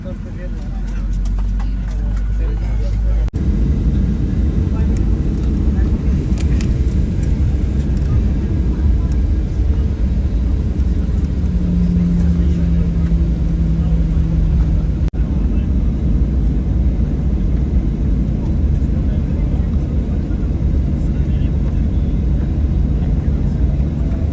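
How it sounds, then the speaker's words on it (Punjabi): A passenger airplane readying for takeoff gives a continuous low engine drone and rumble throughout, steady and fairly loud, while people talk over it. "ਲਗਭਗ ਟੇਕ ਆਫ ਲਈ ਸਾਡਾ ਜਿਹੜਾ ਜਹਾਜ਼ ਆ ਤਿਆਰ ਹੈ"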